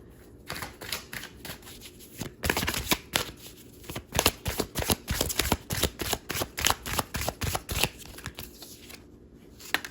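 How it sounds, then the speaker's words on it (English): A deck of oracle cards being shuffled by hand, a rapid run of crisp riffling flicks and slaps close to the microphone, with brief pauses at the start and end. "I want to pull a couple oracle cards."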